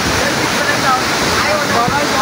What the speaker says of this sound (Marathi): पाणी टप्प्याटप्प्यावर पडतंय बघ